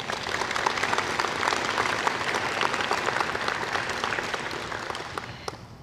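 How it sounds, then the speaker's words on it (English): A college audience breaks into sustained applause, dense steady clapping from many hands filling the room for several seconds before starting to thin out at the end. "So let's give them a round of applause."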